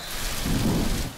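A cartoon thunderstorm with steady heavy rain hissing on surfaces and a low rumble of thunder swelling in the middle, continuous and fairly loud, with no voices.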